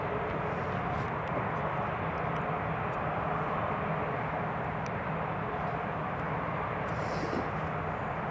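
British Airways airliner landing at Newcastle International Airport, a steady broadband engine roar held at an even level throughout, fairly close and with no voices over it.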